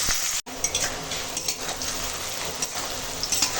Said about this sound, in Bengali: এবার দিয়ে দেবো পেঁয়াজ পেঁয়াজটা ভেজে নেবো সুন্দর করে লাল করে ভাজবো